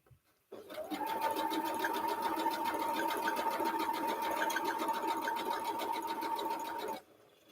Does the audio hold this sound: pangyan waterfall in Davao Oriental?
no